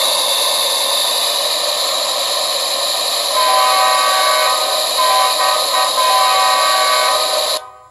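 Loksound decoder from a model Dash 9 locomotive playing its diesel sound file through a small speaker, a steady idling engine drone with whistly overtones that steps up midway, then cuts off abruptly near the end.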